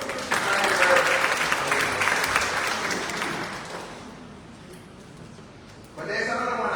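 Audience applause at the Dominica Council On Ageing's 30th annual general meeting, a broad steady wash of clapping that slowly fades, then a short burst of clapping returns near the end.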